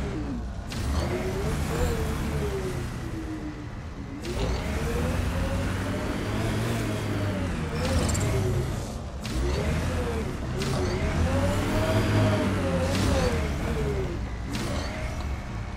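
Engine of the Nomad rover in Mass Effect: Andromeda, a steady motor drone that rises and falls in pitch as the vehicle shifts between forward and reverse, with several swells and brief breaks across the stretch.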